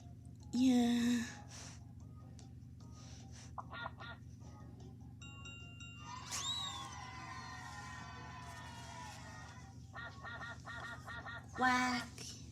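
Ducks quacking in a children's learning video game, a few short bursts of honking quacks among electronic game chimes and tones, fairly quiet and interleaved with voices.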